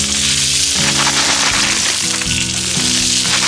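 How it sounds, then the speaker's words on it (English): Loud, bright sizzling of green beans frying in hot garlic oil on an outdoor griddle at camp, a constant crackling hiss close up, with a low hum running beneath it. "Oh, the sizzle."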